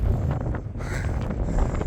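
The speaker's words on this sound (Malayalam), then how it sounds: "കാറ്റ്" Strong wind buffets the microphone on the mountain Meesapulimala, a steady low roaring rumble with gusty surges and no voices.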